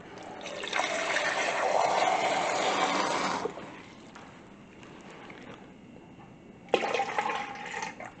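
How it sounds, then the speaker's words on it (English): Cold water is poured into an Instant Pot around jars, with a close gushing pour for a few seconds, a quieter lull, then a second shorter pour. "And I'm going to put water to a third of the way up the side of the jars, just cold water."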